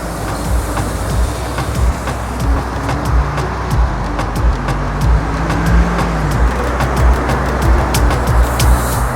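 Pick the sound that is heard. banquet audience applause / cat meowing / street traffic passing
street traffic passing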